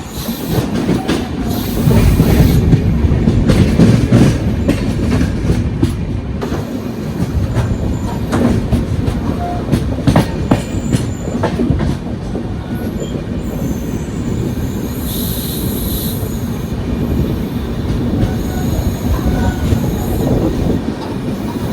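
Tamil Nadu Express passenger train running on rails on its New Delhi to Chennai route, heard from inside a coach as a steady loud rumble with clattering wheels and occasional squeals throughout.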